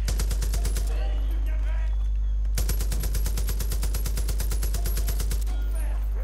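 Rapid automatic gunfire from the Far Cry 5 video game rattles out in two long bursts, loud and close, with brief gaps and a low steady hum underneath.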